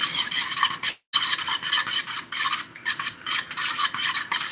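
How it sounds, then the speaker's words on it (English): Eggs whisked for an omelet, scraping rhythmically against a bowl in quick repeated strokes, close and clear, with one brief break. "Now we're gonna stir it up."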